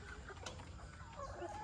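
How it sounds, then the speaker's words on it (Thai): A flock of about 150 young laying hens coming out for their first morning feed on a farm, clucking softly and intermittently at a low, distant level. "ไก่เริ่มออกมากินละ"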